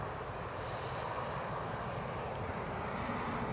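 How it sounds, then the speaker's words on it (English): A Ryanair Boeing 737 MAX 8 airliner approaches the runway at Newcastle Airport, a steady distant jet roar with broadband rumble and no talk. "we should be having a Ryanair 737 MAX 8, 1 year of age, registered December 2022, in with us from Alicante"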